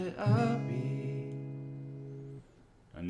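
A single strummed acoustic guitar chord from a walk-down rings out and fades, close and clear, followed by near silence and a brief new onset at the end.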